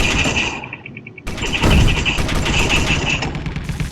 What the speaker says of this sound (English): sometimes the guns will target those and just chew up the armor until they get to it